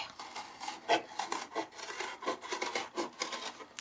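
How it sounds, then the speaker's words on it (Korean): Cardboard box being cut open with rasping, rubbing strokes to make a toy washing machine, a steady series of close, moderately loud scraping cuts with no talking. "저도 좀 넉넉하게 뚫어보겠습니다."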